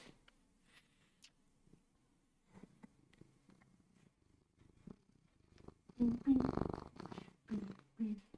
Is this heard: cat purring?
yes